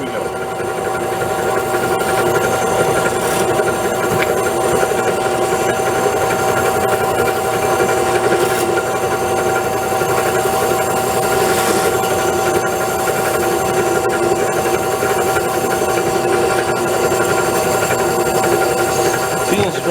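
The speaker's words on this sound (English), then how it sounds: "the cylinder's being polished. We're going at a slow speed." A power tool slowly turns a polishing hone inside a brake wheel cylinder lubricated with WD-40, giving a steady, continuous mechanical whir and grinding hum that stays constant throughout.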